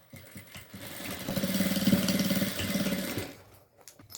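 Domestic sewing machine stitching the four boxed corners of a fabric pencil case, a steady mechanical whir that runs for about two seconds with a short pause and a brief restart, close and moderately loud, no talk.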